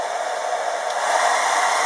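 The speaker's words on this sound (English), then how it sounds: "This is an air dryer, and if I use this on cool air, and it's going to move colors." A hair dryer on its cool setting blows steadily over wet watercolor paint on paper, a close, constant whooshing hiss heard alone.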